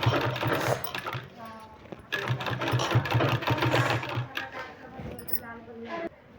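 Electric sewing machine stitching a sleeve design, a steady mechanical whir running in bursts with brief pauses, close and fairly loud.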